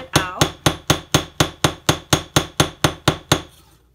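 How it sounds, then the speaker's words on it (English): Planishing hammer strikes sterling silver laid on a steel block, a steady run of about a dozen sharp metallic taps spaced evenly, each ringing briefly, close and loud with no talking. "I set my metal on my steel block, and with you know, one of the sides of the planishing hammer, I just kind of tap it out."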